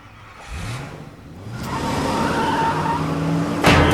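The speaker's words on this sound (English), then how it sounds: "Squealing tires on gravel?" A car's tires squealing and skidding on gravel, rising from a low engine rumble into a loud, sustained scraping screech, close by, ending in a crunching burst.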